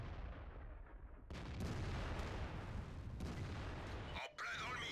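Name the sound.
Lorraine 155 50 artillery gun firing, from the video game World of Tanks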